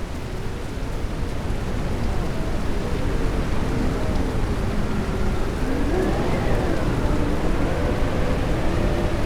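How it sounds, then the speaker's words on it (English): Rain beginning to fall in the Crete video game as the sky darkens, a steady broadband hiss that holds evenly throughout with no talk over it. "it's getting darker, start to rain"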